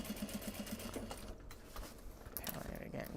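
A sewing machine hums in steady rapid stitching through fabric, close and moderately loud, with a brief pause midway before running on.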